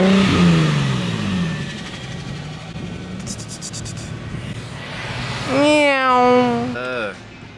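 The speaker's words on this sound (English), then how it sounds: "me and Corey's cars sound like almost identically the same. It's just now I have the bigger manifolds." A car with a built Nissan VQ engine idles with a low burble, then revs loudly and close, the engine note climbing and falling in a quick wavering burst.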